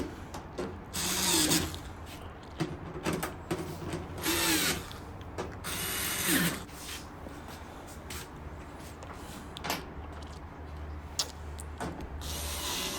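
A power drill tightens screws on the front panel of a GE gas dryer, with repeated bursts of whirring, ratcheting clicks and pauses between screws, close and loud.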